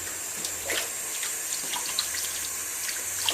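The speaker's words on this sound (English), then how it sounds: "Turn on the water." Tap water runs steadily over roasted chili peppers at a kitchen sink while the charred skin is pulled off, a constant moderate rushing with small splashes throughout and no voices.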